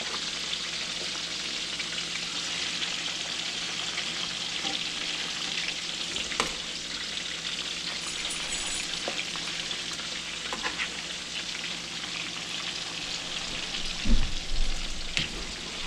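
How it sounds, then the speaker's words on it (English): Venison frying in a pan with butter and onions, a continuous close, fairly loud sizzling hiss with a few soft clicks and a brief bump of the pan near the end, with no one talking. "Now when you pick it up, you're going to turn it over."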